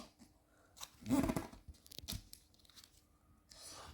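Paper being folded for a mini car model: a few close, crisp crinkles and creasing rustles in short bursts, separated by quiet gaps.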